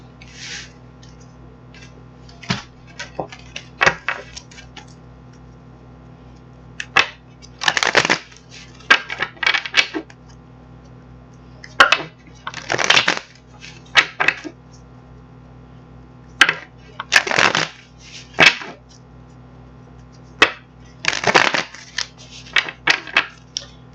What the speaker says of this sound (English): So I'm going to get some cards shuffled up here and see what's cracking for you in June.